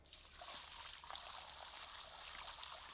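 Water pours and splashes indoors in a house, a steady bright rushing stream with small spatters throughout, fairly faint and without talk.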